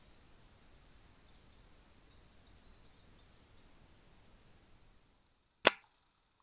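An air rifle shot at a grey squirrel on a garden feeder: a single sharp crack near the end, followed by a brief thud, against quiet outdoor background with faint bird calls.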